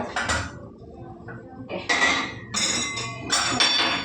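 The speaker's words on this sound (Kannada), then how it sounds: "ನಾನು ಮೊಟ್ಟೆ ಹಾಕಿ ಬೀಟ್ ಮಾಡ್ಕೋತೀನಿ" Eggs being beaten in a bowl for egg dosa, a utensil clattering against the bowl in a few quick bursts of clinking strokes with short pauses between, close and fairly loud.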